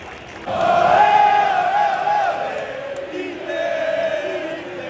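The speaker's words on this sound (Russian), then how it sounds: "У нас аплодируют, фанаты Барселоны свистят" Football crowd in a stadium at a Barcelona–Inter Champions League semi-final, with Inter fans applauding and Barcelona fans whistling; a sustained roar rises suddenly, carries a high tonal whistle across the crowd, then settles into a steadier mass drone.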